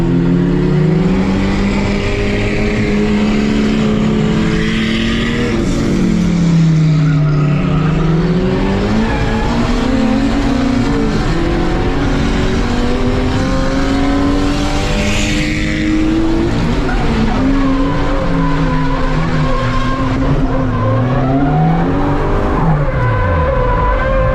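A drift car at a competition round revs hard and sustained while its tires squeal and skid under the handbrake, the engine pitch climbing and dipping through slides, loud and continuous with no talking.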